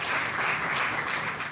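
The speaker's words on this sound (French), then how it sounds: "acclamation." A hall full of people breaks into dense, sustained applause at an official meeting in Côte d'Ivoire, many hands clapping together loudly and evenly for a brief burst.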